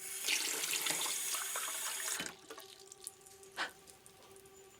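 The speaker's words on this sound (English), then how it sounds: "I went to get a glass of water." A kitchen water tap runs steadily into a glass, a close, loud, even gush that cuts off after about two seconds and leaves a few faint drips and small clinks in a quiet room.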